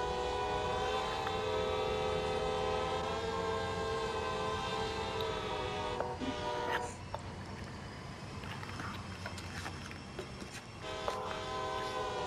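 A locomotive in Train Sim World 2 holds a long, loud horn blast, then its wheels rumble and clack past a railroad crossing, with a few brief sharp knocks and a second shorter horn near the end.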